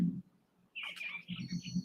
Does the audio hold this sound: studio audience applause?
no